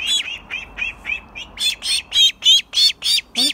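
Exotic ducks being held squawk loudly in a rapid series of about a dozen sharp, evenly spaced calls, starting moderately and growing louder and harsher toward the end, close to the listener.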